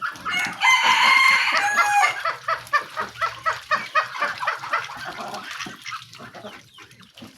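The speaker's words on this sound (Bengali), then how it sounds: "ছোট বড় মিলিয়ে এখানে 30 থেকে 40টি হাঁস আছে।" A flock of thirty to forty village ducks, large and small, calls nearby. A loud drawn-out call comes first, then a run of rapid, evenly spaced quacks that thins out toward the end.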